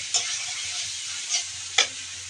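Eggs frying in hot oil in a home kitchen, giving a steady bright sizzle with a few louder crackles and spatters at irregular moments, close by and with no voices.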